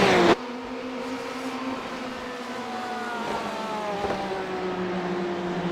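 Porsche and Ferrari GT race cars in a racing video game, engines droning steadily with rising and falling pitch as they hold speed together, continuous and fairly loud with no talk.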